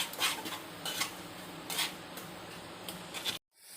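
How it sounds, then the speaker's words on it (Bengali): Spices for an achari rui fish curry being stirred and fried in a pan, with repeated scraping and clinking strokes of a spoon against the metal pan, close and steady, ending abruptly. "সব মশলা দেওয়া হয়ে গেছে, এবার আমি ভালো করে কষিয়ে নেব।"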